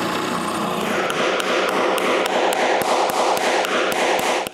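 Rapid, evenly spaced hammer taps drive metal inserts into a spare doweling jig head drilled for larger bushings, the sharp blows landing about three times a second over a steady background hiss.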